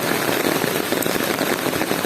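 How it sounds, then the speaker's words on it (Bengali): Heavy rain pours down in a dense, constant hiss, pattering on surfaces close by. "তো দেখতেই পারছেন প্রচুর বৃষ্টি"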